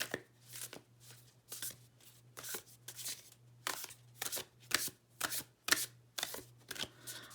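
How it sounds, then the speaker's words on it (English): Repeated overhand shuffling of a tarot deck, crisp riffling bursts coming in a steady rhythm, close up, with a low hum underneath. "Listen to the sound of the shuffle."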